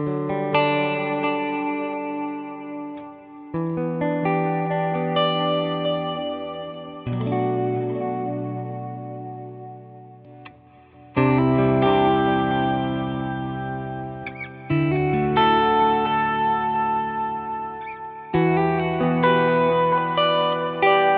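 Electric guitar played through a Carr Telstar amplifier on an ambient effect preset. Sustained chords swell and decay with heavy reverb, echo and chorus shimmer, struck about every three to four seconds, clean and alone with no voices.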